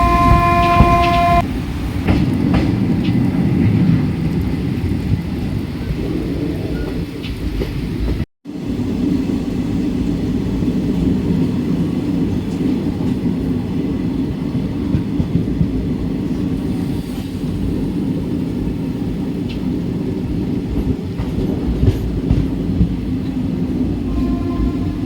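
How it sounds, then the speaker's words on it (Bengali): Jagannath Express rolling into Santragachi platform during rain: a loud, continuous rumble of wheels and carriages with a short horn note at the start and one abrupt break partway through. "এই আমাদের ট্রেন সাঁতরাগাছি প্ল্যাটফর্মে ঢুকছে"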